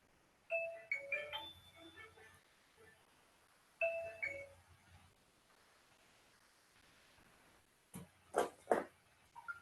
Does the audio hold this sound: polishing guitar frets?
no